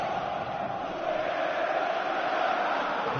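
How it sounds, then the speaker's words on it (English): Football stadium crowd at an Atlético Madrid versus Real Madrid Copa del Rey match, a continuous broad roar from thousands of fans, steady and sustained, heard from a distance without distinct voices. "The sound of the crowd."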